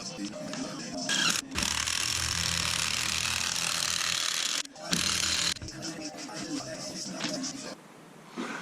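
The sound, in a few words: McPherson strut spring compressor being tightened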